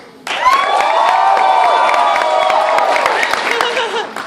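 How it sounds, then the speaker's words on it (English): An audience at a New York Comic Con 2014 panel for Telltale's The Walking Dead bursts into loud applause and cheering. The roar swells abruptly, holds steady with whoops, then starts to fade near the end. "I want you to tell me which one's your favorite by applause."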